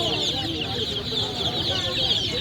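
Chickens cluck amid the steady din of a busy bird market, a dense continuous chatter of fowl with no clear talk over it.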